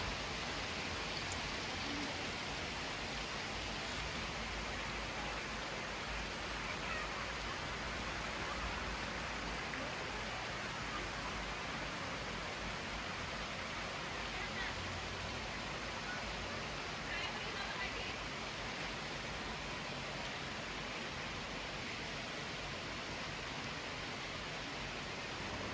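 Rain falls outdoors in an even, unbroken hiss that stays moderately faint and constant for the whole stretch, with no distinct drops standing out.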